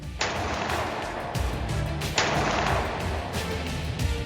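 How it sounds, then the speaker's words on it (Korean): Two sharp, loud gunshot bangs about two seconds apart in a mountain setting, each followed by a rumbling echo over a noisy background. "약 11발의 총성이 들려옵니다."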